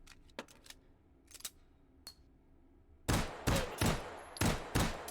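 Gunshots from FMJ +P pistol ammunition in the VR shooter H3VR: a few faint, sharp cracks at first, then a run of five or six loud, evenly spaced shots with ringing tails, no talk.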